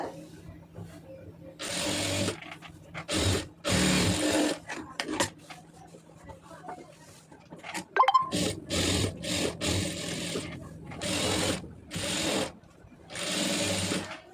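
A sewing machine stitches the back neck of a chudithar in repeated short, loud bursts of fast whirring, with a quieter stretch in the middle and a voice briefly heard between runs.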